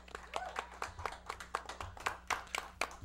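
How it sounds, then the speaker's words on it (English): A live audience gives a round of applause for El Monte, with scattered, uneven hand claps repeating through the moment at moderate volume. "Okay, a round of applause for El Monte."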